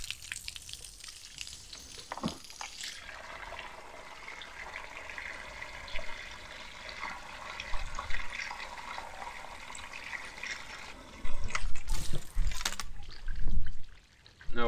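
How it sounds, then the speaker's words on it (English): Water is poured into the 15-litre tank of a Milwaukee Switch Tank sprayer, a continuous trickling, splashing flow under light handling noises, swelling louder near the end. "We put a bit of water in."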